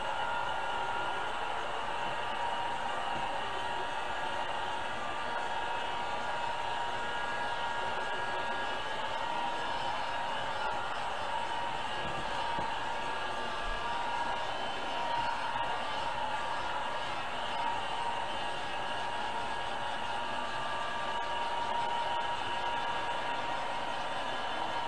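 A heat gun blows steadily over peppermint candy being worked, a loud, unbroken close-up roar of rushing air that holds level throughout.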